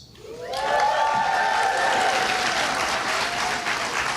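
An audience at the 7th Annual 4 Under 40 Awards, a Boone Area Chamber of Commerce event held indoors, breaks into loud sustained applause that swells quickly and holds steady, with a few faint voices underneath.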